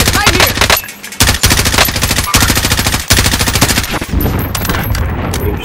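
Rapid automatic gunfire in a video game, long loud close bursts of rhythmic shots with brief pauses between them, over game background noise.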